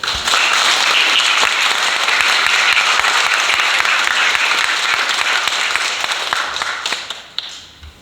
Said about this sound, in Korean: 다시 한번 우리 격려의 박수